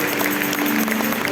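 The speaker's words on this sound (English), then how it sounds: "let's give God one clap offering" Church congregation at an anniversary gathering giving a clap offering, a dense, loud wash of many hands clapping together, continuous and close for the whole short stretch.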